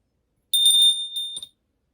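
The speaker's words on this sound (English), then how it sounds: "Did somebody say bell?" A bright bell sound effect rings out, a sustained high metallic tone with a couple of quick follow-up dings, alone against silence.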